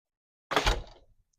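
A door thumps shut in a single close, solid knock with a short rattle trailing off, alone with no talking.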